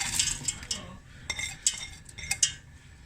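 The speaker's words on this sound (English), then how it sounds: "Now, I am going to add the green beans." Green beans tumble into a soup pot with a clatter of a spoon or utensil against metal, several quick clinks and rattles over about three seconds, close and without talk.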